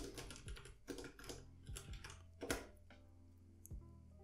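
Clicky keystrokes on a computer keyboard come in short bursts and single taps, close and fairly quiet, with no talking.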